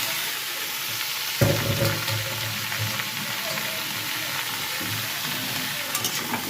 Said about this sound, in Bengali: লাল লাল ভাজা হয়ে গেছে, আমি চাল কুমড়া ছেড়ে দেবো,